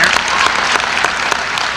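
Audience at a high school event applauding performing students, dense steady clapping from a crowd, loud and continuous throughout the short stretch.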